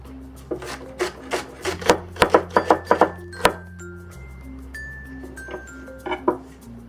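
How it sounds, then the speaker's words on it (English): A knife minces green onion on a cutting board in a quiet kitchen, a quick run of sharp taps in the middle with a few scattered strikes before and after, over a steady faint electrical hum. "we'll mince the green onion"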